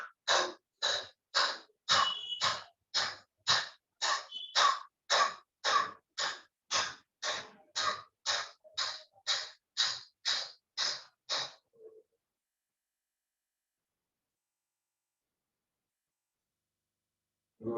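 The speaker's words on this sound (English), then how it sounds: "Inhaling and forceful breathing from the abdomen for 20 counts." Kapalabhati yoga breathing: about twenty sharp, forceful abdominal exhalations in a steady quick rhythm, close and loud, then silence after the final breath.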